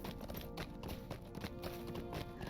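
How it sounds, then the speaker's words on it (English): A summoned horse in The Lord of the Rings Online clip-clops along with steady, fairly quick hoofbeats under a dense game soundscape. The hooves are faint and continuous through the whole stretch. "As some might say, our magical pocket horse."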